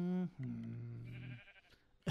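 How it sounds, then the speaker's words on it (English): In a video game, a sheep bleats twice: a short bleat, then a longer wavering one. Both are clear and close, followed by fainter game sounds. "Hey sheep. Hey sheep."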